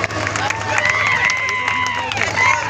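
A festival crowd at the Gajalakshmi Mahotsav stage claps and cheers in a dense, steady burst, while a voice carries over the noise.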